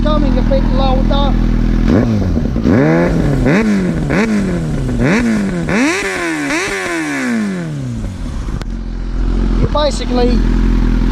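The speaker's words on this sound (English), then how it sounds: "I give you this exhaust sound of this exhaust." A Yamaha R6 sport motorcycle with its muffler still fitted revs hard up close, throwing out a series of sharp rising throttle blips that fall away, over a steady loud idle. Someone speaks briefly.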